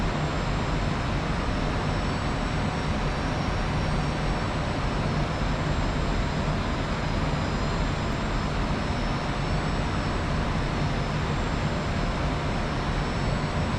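The F-86F jet engine in the DCS flight simulator during descent, heard as a steady, loud, unbroken roar with a faint high whine running through it.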